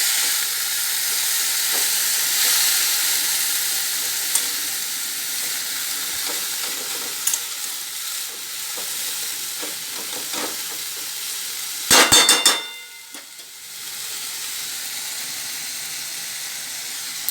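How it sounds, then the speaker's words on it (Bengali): Salted Brahmi greens being stirred in a hot pan, giving a continuous close hiss and sizzle with occasional spatula taps and a brief loud clatter near the end. "এবার নুন দিয়ে দিচ্ছি, ভালো করে নেড়ে চেড়ে নিচ্ছি।"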